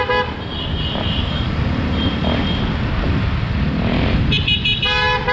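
A vehicle horn honks loudly over a rumbling engine and road noise at a mountain bike race, sounding briefly early and again in a longer blast near the end.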